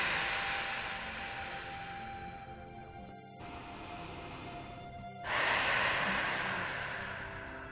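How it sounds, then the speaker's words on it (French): A deep, drawn-out exhale during a yoga breathing exercise, broad and breathy, swelling louder near the end after a brief pause, with no talking over it. "Alors, inspire et on expire au maximum."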